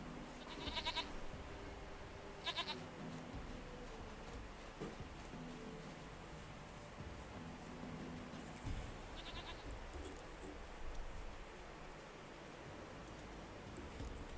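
A goat in The Witcher 3: Wild Hunt bleats in two short cries near the start, with a fainter call later, over a constant rushing game ambience.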